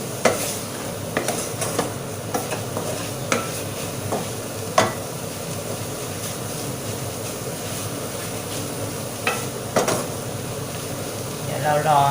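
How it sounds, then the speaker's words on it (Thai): Pieces of fish being dry-stirred in a hot pan for a Thai winter melon and chicken curry, giving a steady sizzle with scraping stirs and occasional sharp clacks of a utensil on the pan, close up, while a voice talks over it. "ใส่ปลาไปนิดหนึ่งนะใส่ปลาไปคั่วด้วยนะ"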